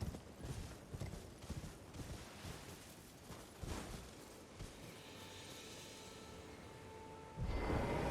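A horse's hooves gallop in steady clip-clop rhythm across open terrain in the video game Elden Ring, fairly faint under ambient game sound, with a louder burst of noise near the end.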